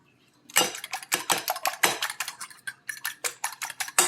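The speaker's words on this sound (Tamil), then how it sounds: "எல்லாத்தையும் சேர்த்து நல்லா அடிக்கணும்." Eggs beaten hard in a bowl for gala gala, a utensil clinking against the bowl in a quick, rhythmic run of a dozen or more close strokes, with brief pauses and no talking.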